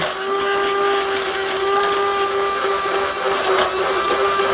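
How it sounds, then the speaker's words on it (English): A small emulsifying blender whirs steadily, mixing a dressing of olive oil, shallot, garlic, Dijon mustard and honey; a continuous close, loud motor drone with a steady tonal hum runs throughout. "Got a little emulsifying blender."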